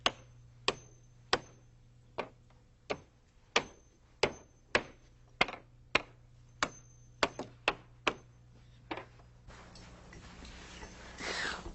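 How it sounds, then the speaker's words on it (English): Hammer blows driving 8-penny nails into a wooden stair riser, a steady series of about eighteen sharp, close strikes at roughly half-second to one-second intervals, followed by a short burst of rustling. "I start at the bottom by nailing on the first riser with 8-penny nails."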